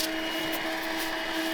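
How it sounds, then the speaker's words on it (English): A vacuum cleaner runs steadily inside a dusty storage box on a vehicle while camping along the Canning Stock Route, a continuous close whine with a strong even tone and no breaks. "I need to vacuum it out."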